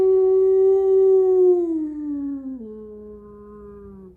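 A person imitates a wolf howl with the voice alone, holding a long steady tone that slides downward and breaks with a sudden crack into a lower pitch before fading out, close and clear.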